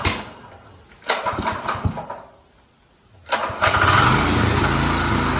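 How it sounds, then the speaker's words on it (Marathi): A small tractor engine, just repaired, cranks in two short bursts, falls quiet, then catches and keeps running with a loud, steady rumble close by. "बघू शकता मशीन आता चालू झालं आहे."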